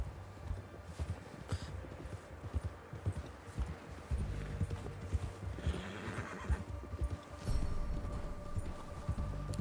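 A horse's hooves clop steadily at a run while it whinnies and neighs in the video game Red Dead Redemption 2, close by and moderately loud, with no voices.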